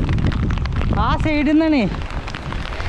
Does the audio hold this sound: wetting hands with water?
no